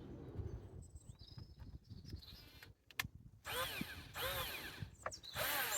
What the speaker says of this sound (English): if you're using an electric drill, you don't have to kind of go mad with it.